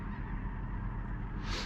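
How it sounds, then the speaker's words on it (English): A huge flock of tens of thousands of geese flies very high overhead in pre-dawn darkness during duck season, its honking carrying as a faint, continuous distant chorus. "there's literally tens of thousands of geese"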